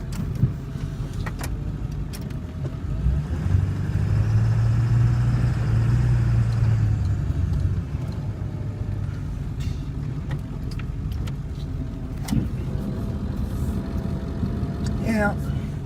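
A truck engine running steadily while plowing wet, packy late-season snow on a driveway, a constant low rumble with a brief swell midway and occasional clanks, and someone talks over it.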